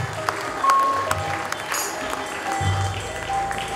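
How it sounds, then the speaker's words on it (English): Close, fairly loud audience applause at a smart city summit, a continuous wash of clapping with some crowd noise and a faint tone mixed in. "Can we have a big round of applause,"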